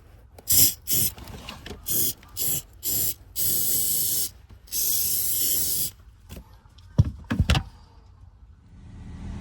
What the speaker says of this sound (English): we're gonna do a quick spray of Lysol to disinfect any mold or bacteria that's in there